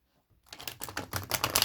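Tarot cards being shuffled by hand, a rapid riffle of crisp papery flicks that starts after a short silence and grows louder and denser over a second, close up.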